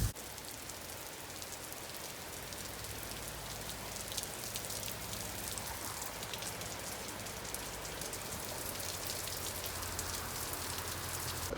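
Steady rain pours down on a hard surface at a cow shelter, a dense continuous patter with occasional louder drips, no voices.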